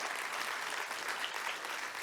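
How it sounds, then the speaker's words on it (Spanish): A church congregation applauds in worship, a continuous wash of many hands clapping at moderate volume with no pause. "denle un aplauso al Señor"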